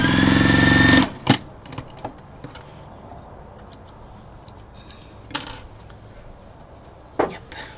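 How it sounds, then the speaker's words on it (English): Sewing machine joining scrap fabric pieces, heard as a loud close whirring run lasting about a second, then followed by scattered clicks and small handling knocks. "I'm going to sew that together."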